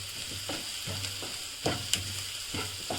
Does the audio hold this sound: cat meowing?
no